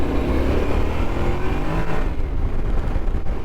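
A CF Moto CL-X 700 Adventure motorcycle accelerates off-road on a slippery, off-camber trail, its engine revving loud and close in one continuous rising growl, with no talking.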